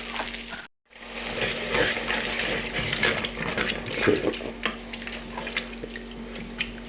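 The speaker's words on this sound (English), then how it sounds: "Now I added the chicken stock to this." Homemade chicken stock goes into a pot for jambalaya, giving a sizzling, bubbling liquid wash with small drips and a brief dropout near the start, the sound continuing steadily at moderate volume.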